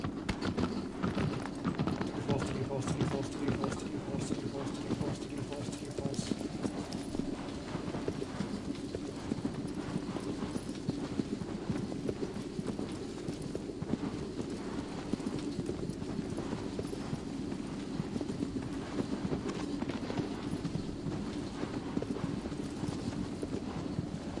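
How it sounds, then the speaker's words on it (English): Steady clip-clop of horse hooves at a riding pace in a PS4 game set among colossi, continuous and fairly close over a dense bed of game ambience, with no talk. "I will ride a horse to a safe point near the next Colossus and stop."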